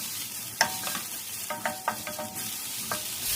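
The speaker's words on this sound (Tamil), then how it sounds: "இந்த கடாய் சூட்லேயே தேங்காய் நல்லா வறுபட்டுடும்" Freshly grated coconut roasts in a hot kadai on a stove that has been switched off, with a spatula scraping and stirring it in several distinct strokes over a soft background sizzle.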